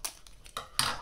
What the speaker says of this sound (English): My trusty scissors.